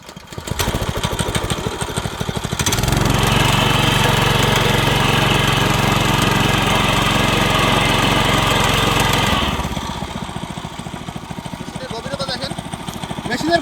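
A weeder machine for a grass field runs with a rough, ticking engine, revs up into a loud, steady drone for several seconds, then drops back to a lumpy idle.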